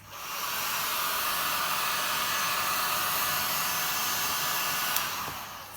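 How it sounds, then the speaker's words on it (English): A cheap Lidl heat gun blows steadily over acrylic pour paint to pop cells, giving a continuous airy whoosh that fades in and holds level and close, with no talk. "Now I'm gonna use my heat gun, which is cheap one from Lidl, and it helps to pop these cells."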